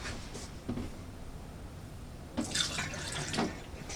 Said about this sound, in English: what you do after that is you just pour a little bit of antifreeze down there.